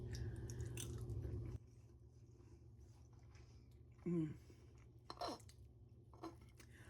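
Crunchy, golden fried veggie fritters bitten and chewed up close: a few quiet crisp crunches and moist chewing sounds in a hushed room, with a brief louder noise at the start and no talk.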